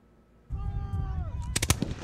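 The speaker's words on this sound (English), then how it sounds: "The guns you see, the cannons you hear" Cannon and musket fire at a Battle of New Orleans reenactment: a few sharp, loud cracks in quick succession cut through a busy crowd and ambient noise, following a steady tonal sound.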